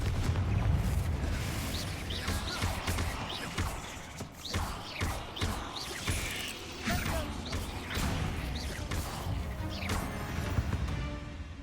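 A Confringo spell blast smashes inside a catacomb in Hogwarts Legacy, followed by a long stretch of crashing, crackling debris and creaking with sharp irregular impacts at moderate loudness.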